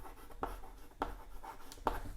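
Names written by hand, a faint scratching of strokes with three sharper taps spaced roughly half a second apart, quiet and without talk.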